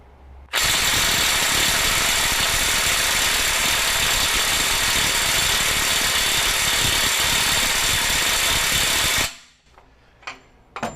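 A Milwaukee 2953 Gen 4 M18 FUEL impact driver running in reverse at speed 3 on a stubborn fastener: a loud, close, continuous rattling hammer of impacts for about nine seconds, then it stops abruptly, leaving a few faint knocks.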